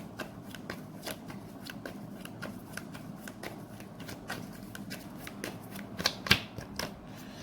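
Tarot cards shuffled for a reading: quiet, close, repeated crisp riffling snaps in an irregular rhythm, with a few sharper card slaps near the end and no talk.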